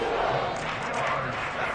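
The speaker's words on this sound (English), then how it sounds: "the crowd getting into it as we come up on a big 3rd down" A football stadium crowd at a Steelers game builds into a steady, dense roar before a big third down, a continuous wash of massed voices with no single standout shout.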